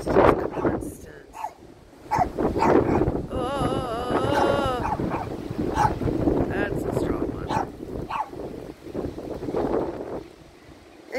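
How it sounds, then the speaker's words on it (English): Strong wind buffets the microphone in a constant low roar, with people talking through it and a brief whistling tone in the middle. "It's so windy. This sucks. It is just constant."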